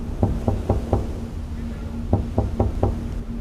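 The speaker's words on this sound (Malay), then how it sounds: "bunyi ketukan tu bergema lagi" Knocking on a door in a spooky story, two clusters of four sharp raps each separated by a pause, loud and close over a low steady hum.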